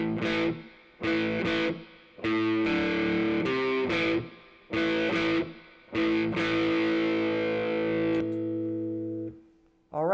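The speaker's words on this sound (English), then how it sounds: "once you get really confident with a riff, you can raunch it out with some distortion or some crunch" An electric guitar with distortion and crunch plays a power-chord blues shuffle riff, loud and close, in choppy bursts separated by short gaps, ending in a long ringing chord.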